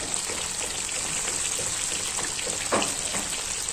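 Corn kernels frying in oil over a medium flame, a steady hissing sizzle with faint crackles throughout, quiet and uninterrupted by talk.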